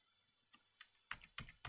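A few quiet clicks, then three sharper keystrokes on a computer keyboard as a report number is typed, each tap distinct and close, with no talking.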